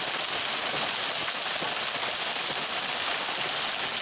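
Hail pelting the ground during a sudden storm near old buildings in a small rural town, a dense, steady hiss of countless impacts with scattered sharper ticks, constant and close throughout with no talking.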